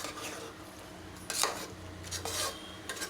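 Spoon scraping and stirring chicken korma with fresh coriander in a frying pan, a few distinct rubbing scrapes in quick strokes over a faint low sizzle, fairly quiet and close.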